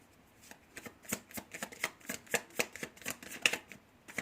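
Playing cards being shuffled and drawn from a deck, a quick run of crisp riffling snaps and soft slaps in an irregular rhythm, close and fairly quiet with no talking.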